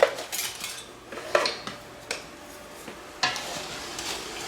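A utensil scraping and clinking against a pot while an egg mixture for homemade ice cream is stirred, with a few sharp metallic taps among softer scrapes, close and alone without talk.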